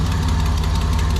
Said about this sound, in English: I don't know if that's timing belt slap or a brutal exhaust leak or something, but something doesn't sound very happy on this side.